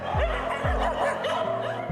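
Dogs at a crowded animal shelter housing hundreds of dogs and cats, barking in quick repeated yaps and whimpers, several voices overlapping close by.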